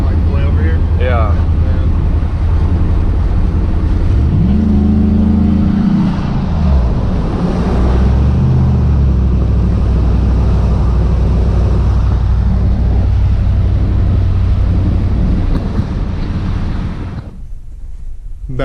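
An LS-swapped OBS Ford truck with full exhaust cruising on the road, a steady low engine drone that persists throughout and cuts off near the end, with voices talking over it.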